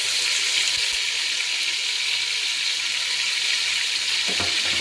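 Ginger and garlic paste frying in oil with whole garam masala for a chicken yogurt curry: an even, bright sizzle held at a constant level, with a couple of soft low knocks near the end.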